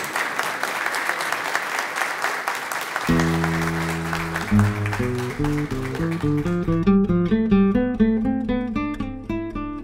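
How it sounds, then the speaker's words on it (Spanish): Audience applause at a community dance event honoring a foundation, sustained clapping throughout, joined partway by loud live band music with steady rhythmic notes rising above the crowd noise. "Fuerte los aplausos."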